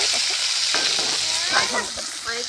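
Murola fish frying in a pan, a steady bubbling sizzle with occasional stirring scrapes and faint voices in the background.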